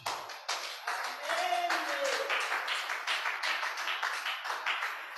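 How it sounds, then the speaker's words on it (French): A church congregation breaks into sustained applause and clapping, a dense, steady patter filling the room for several seconds with no speech over it. "Acclamons la parole de Dieu."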